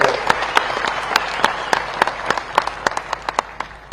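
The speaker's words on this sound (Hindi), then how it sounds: "तीनों बेटियों का ताली बजा के स्वागत करें" An audience claps to welcome three daughters at a memorial event, a steady spread of moderate applause with individual sharp claps standing out, continuing evenly for a few seconds.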